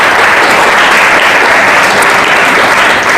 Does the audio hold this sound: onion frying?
no